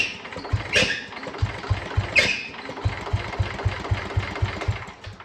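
Small engine of an antique John Deere 112 garden tractor cranks and tries to start, a steady rapid chugging pulse with two brief sharp hissing bursts, close and fairly loud.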